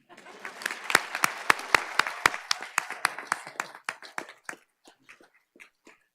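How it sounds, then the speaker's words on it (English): Audience applause at an employees of the year awards ceremony: a burst of clapping with sharp individual claps standing out, thinning over the last seconds to a few scattered claps. "Can I get a round of applause for not only the Yonder pouches,"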